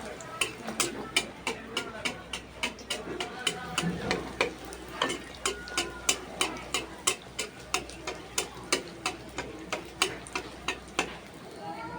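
Luchi, puffed Bengali flatbread, frying in hot oil: a steady sizzle broken by a regular series of sharp clicking scrapes as the pieces are turned, with low talk underneath.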